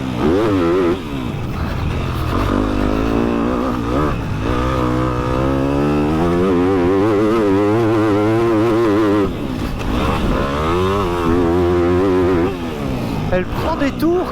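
A Yamaha 250 YZF motocross bike with a tuned four-stroke engine revs hard and loud up close, climbing and dropping through high revs in sustained waves while someone talks over it.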